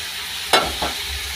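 Meat drops into a hot pan with a sudden sizzle, followed by a second stirring scrape about a quarter second later, the frying hiss then settling into a steady low crackle.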